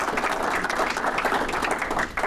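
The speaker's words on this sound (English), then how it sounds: "Rotarians, please join me in applauding Rich's efforts to help" A room of Rotarians gives dense, continuous applause at moderate loudness, with many overlapping claps for a couple of seconds. A faint murmur sits underneath.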